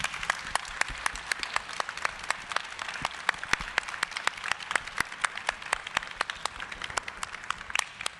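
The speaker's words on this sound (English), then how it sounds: "Can we give them one last round of applause?" Book club audience at the Japanese American National Museum gives a closing round of applause for the panel, sustained crowd clapping with crisp individual claps popping through, even and moderately distant throughout.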